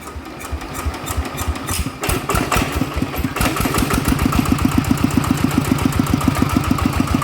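A motorcycle engine from a customer's bike that could not turn over is kick-started and settles into a loud, steady idle of evenly spaced, close-up pulses that grow firmer as it runs.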